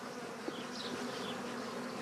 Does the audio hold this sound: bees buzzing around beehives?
yes